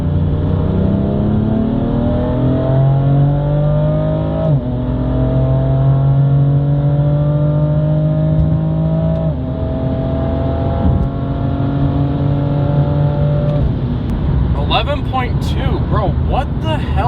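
A BMW M4 accelerates hard, its engine note climbing in pitch again and again through several gear changes, loud and close as if heard from inside the car.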